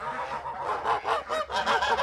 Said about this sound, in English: we will be hearing the geese and the ducks and that quacking over the top of us